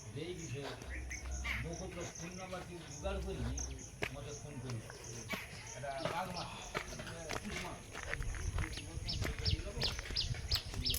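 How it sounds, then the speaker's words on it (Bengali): Birds call among dense trees in a muddy rural setting after overnight rain, with scattered faint chirps heard under a person talking nearby. "বেশ সুন্দর গাছপালাই ভরা পাখির ডাক"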